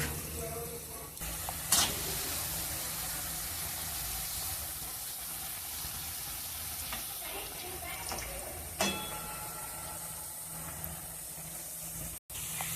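Steady hiss of palm fruit fritters deep frying in oil, with a couple of sharp clicks, moderately quiet and continuous throughout.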